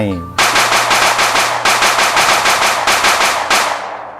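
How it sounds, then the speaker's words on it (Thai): A long, rapid burst of automatic gunfire, loud and close, with evenly spaced shots rattling for several seconds. "เสียงปืนดังยาวราวกับประทัด"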